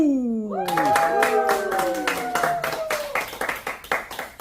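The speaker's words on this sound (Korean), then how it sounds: "자, 다시 한번 우리와 같은 박수!" A group claps hands together at a birthday party for a singer, steady rhythmic clapping, fairly close and loud, with sung or spoken voices over the start before the clapping becomes separate and uneven toward the end.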